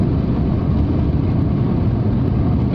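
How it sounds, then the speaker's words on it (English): Rover 45 V6 engine droning steadily, a loud, continuous low rumble from inside the moving car with road noise, no voices. "I don't want a V6 for performance, I want it for the noise, and it sounds lovely."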